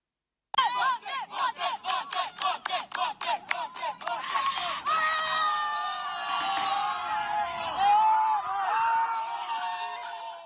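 A crowd of teenagers shouts and screams, egging on two young girls fighting; sharp rhythmic yells come first, then a dense, loud wall of overlapping cheering and shrieking voices.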